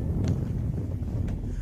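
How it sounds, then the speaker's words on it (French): Cool wind in the arid Moroccan mountains gusts steadily across the microphone as a low, continuous rumble with no talking. "C'est pour ça qu'on a ce vent frais."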